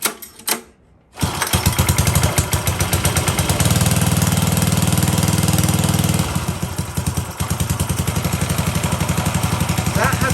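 Small 1970s Japanese-made Robin engine with choke on, started with a recoil pull after a brief rattle and silence, then running loud and close with a steady rapid chugging beat that dips briefly before picking back up.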